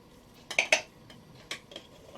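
A spoon clinking and scraping in a bowl while cupcakes are decorated: a cluster of three quick close taps, then a few softer scattered clinks in a quiet room.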